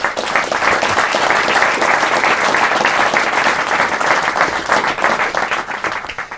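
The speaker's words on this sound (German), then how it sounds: "Gebt euch selbst einen Applaus." Studio audience at a German political talk show applauds, a dense, loud, steady wash of many hands clapping that continues throughout without pause.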